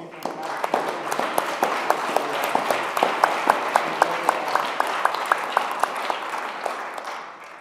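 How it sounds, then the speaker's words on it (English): An audience applauds after a presentation on optics. Dense, steady clapping from a crowd fills the room at a moderate distance, with sharp individual claps standing out through the roar for several seconds. "I think he deserves another applause."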